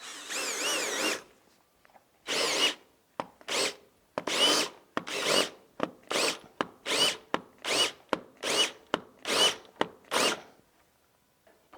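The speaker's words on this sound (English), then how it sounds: "So you're gonna pre-drill your hole in the brick" A power drill with a Tapcon masonry bit pre-drills a hole in brick for a fireplace mantel, running in a long burst then about fifteen short, loud, rhythmic grinding pulses, close and alone.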